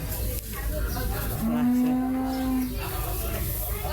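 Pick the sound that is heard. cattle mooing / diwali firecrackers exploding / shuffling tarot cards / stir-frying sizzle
cattle mooing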